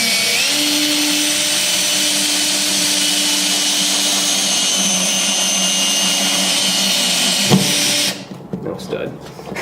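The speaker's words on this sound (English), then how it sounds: "putting it in with my trusty Makita drill" A Makita cordless drill whirs steadily as it drives a lag bolt, running for about eight seconds before cutting off abruptly.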